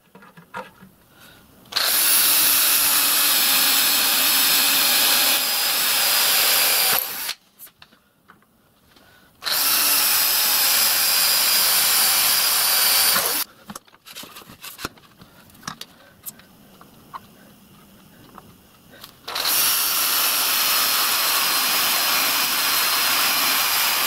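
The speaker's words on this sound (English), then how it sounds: "I'm just going to drill these freehand." A power drill whines in three long bursts of a few seconds each, drilling holes freehand in a model steam locomotive's water tank, separated by quiet pauses, loud and close with no talking.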